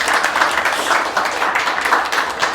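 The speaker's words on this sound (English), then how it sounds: "Give him a round of applause." Audience applause at a Las Vegas programmers' tech meetup, a steady dense wash of clapping that holds at an even level throughout, with no voices on top.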